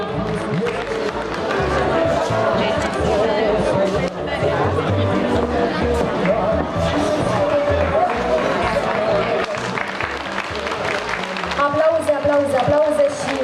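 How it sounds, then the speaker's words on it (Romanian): An audience applauds at a ceremony presenting participation plaques, a steady, dense wash of clapping and crowd noise that holds throughout, with voices talking over it. "aplauze"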